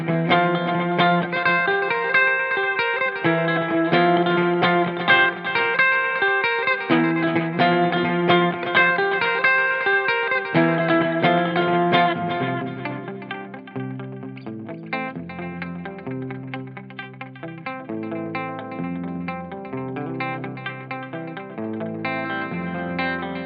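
Electric guitar played through a Headrush effects rig, with delay, chorus and light drive; a busy, fast riff gives way to a sparser melodic line, heard alone and close.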